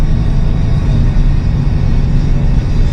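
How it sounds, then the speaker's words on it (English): A 24-year-old 8.1 gas V8 pulling an 18,000-pound trailer, in fourth gear at about 68 mph, gives a loud, steady, low rumbling drone under added throttle, with road noise and no talk. "Now I'm going to give it some more throttle."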